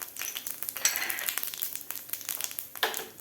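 Mustard seeds and cumin spluttering in hot oil in a pan, a close, light crackle of irregular pops and sizzling bursts at low volume, with no talk.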